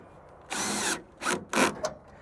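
Power tool driving bolts into an aluminum MOLLE panel on a Jeep Gladiator, several short whirring bursts, one longer followed by three quicker ones, close and clear without talking.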